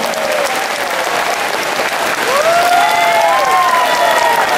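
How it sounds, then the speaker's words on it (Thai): Loud, steady applause from a boxing crowd cheering Buakaw at a WBC title event in Chiang Rai, with voices rising and calling out over the clapping. "ขอเสียงปรบมือดังๆให้กับบัวขาวอีกสักครั้งครับ"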